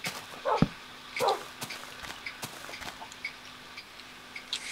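A pet wolf-dog in the Minecraft video game gives a few short, sharp barks and yips near the start, followed by faint, scattered game clicks and ticks.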